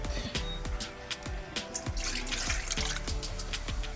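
Water running into a cooking pot in a home kitchen while Jamaican cowfoot with butter beans is being made, a steady close splashing stream with repeated sharp clinks and drips against the pot.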